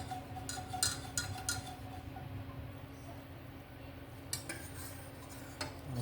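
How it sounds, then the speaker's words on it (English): A spoon stirring caramel sauce in a pot as it comes to a boil, with light repeated clinks and scrapes against the metal over a low background hum. "I'm going to keep stirring."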